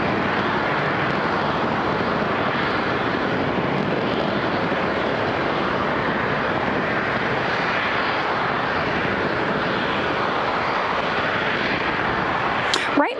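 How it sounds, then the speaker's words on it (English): A Falcon 9 rocket climbs on all nine Merlin engines during ascent from Florida, a steady, dense roar that stays loud and unbroken throughout. "Vehicles pitching downrange as all 9 Merlin engines continue to perform well"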